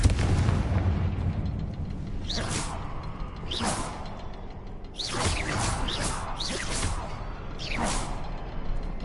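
A Confringo fire spell is cast in the Hogwarts Legacy video game, giving several loud whooshing blasts and booms that burst out in quick succession over a continuous rumbling game background, with no talk.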